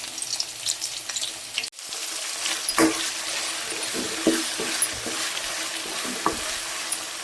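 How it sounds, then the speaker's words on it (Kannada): Ginger garlic paste frying in oil with carrot and cucumber gives a low, steady sizzle, broken by a brief dropout and then several scraping stir strokes and light clatters of a spoon, close by, with no talk. "ಈಗ ನಾನು ಅದಕ್ಕೆ ಅಲ್ಲ ಬೆಳ್ಳುಳ್ಳಿ ಪೇಸ್ಟ್ ಹಾಕ್ಕೊತೀನಿ"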